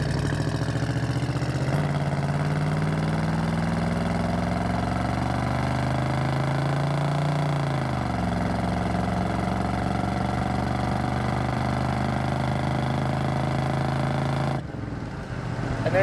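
A 1976 Chevrolet C10 short-wheelbase pickup with its original 454 V8 runs steadily close by, a deep droning engine note that rises and falls slightly in pitch before cutting off near the end.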